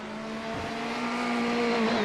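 Ferrari turbo race car engine in an iRacing sim race at Watkins Glen, held at a steady high-rev whine as it climbs a hill, continuous and fairly loud with no talk.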